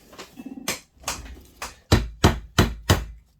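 A hammer strikes an old McCulloch 1-85 chainsaw part in a series of sharp, ringing metal blows that grow stronger and more regular, about seven hits with short pauses between them.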